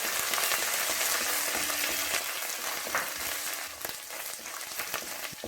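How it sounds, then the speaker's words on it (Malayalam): Crushed ginger and garlic sauté in hot oil in a pan for a beef roast, a strong close sizzle with occasional scraping and tapping that eases slightly toward the end. "ഇതിലേക്ക് നമ്മൾ 1 ടേബിൾ സ്പൂൺ ഇഞ്ചിയും വെളുത്തുള്ളിയും ചതച്ച് ചേർത്ത് കൊടുക്കുന്നു."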